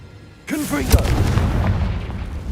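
A Confringo fire spell in Hogwarts Legacy bursts out of near silence as a loud, booming blast with sharp cracks, then rolls into a sustained rumbling roar. A voice sounds briefly at its onset.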